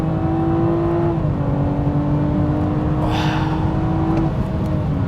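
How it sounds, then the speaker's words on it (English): A BMW 340i xDrive sedan engine accelerating hard in Sports Plus mode, a loud continuous droning roar with rising and shifting tones heard from inside the car. "I love to hear the engine."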